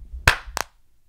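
Two sharp hand claps ring out up close, one after the other with a short gap between them, loud and clear against near silence.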